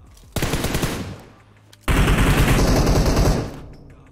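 Automatic 7.62 rifle fire in the mobile game PUBG Mobile comes in two loud, close bursts of rapid shots, a shorter one and then a longer one after a brief pause.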